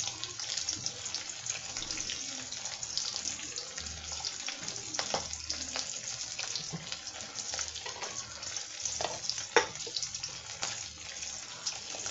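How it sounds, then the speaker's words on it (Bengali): Rohu fish pieces frying in hot oil give a steady, fairly quiet sizzle with scattered small crackles and pops all the way through. "আর মাছটা ভেজে নেই।"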